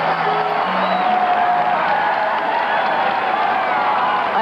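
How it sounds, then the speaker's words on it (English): A crowd cheering and applauding at the 1986 Ironman Triathlon World Championship finish line, a steady, continuous roar of many voices with scattered whoops and clapping, heard from amid the crowd. "I hear all those people cheering"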